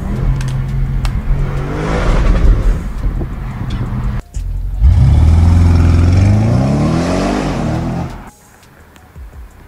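Audi RS6 Avant estate engine revving and accelerating, with two loud surging runs broken by a brief gap, wind noise over the microphone, then dropping to a quieter idle at the end.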